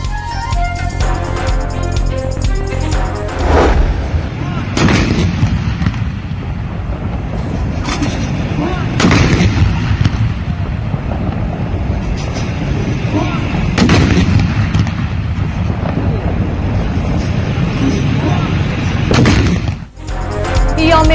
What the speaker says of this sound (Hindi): यौम पाकिस्तान के आगाज पर मुल्क भर में तोपों की सलामी से दिन का आगाज हुआ